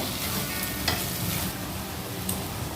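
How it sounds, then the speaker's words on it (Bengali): Methi chicken masala stir-fried in a pan: a steady, dense sizzle close up with a few faint utensil scrapes and taps, continuous and even, no talking. "এবার এগুলো সব আবার একটুখানি কষিয়ে নেব।"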